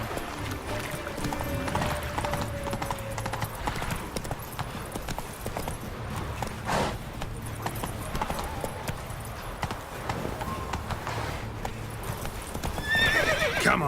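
Roach the horse trots in The Witcher 3 video game, hooves clip-clopping rhythmically over steady ambience, with a whinny and snorting breaths mixed in.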